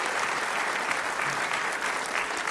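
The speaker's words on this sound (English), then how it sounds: "Round of applause for Walter." An audience at a keynote talk in Durango claps in a dense, sustained roar of applause that holds steady throughout, full and close.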